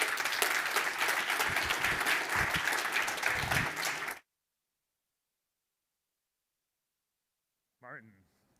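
Audience applause after a conference talk, a dense burst of clapping for about four seconds that cuts off abruptly, followed by silence and a short spoken voice at the end.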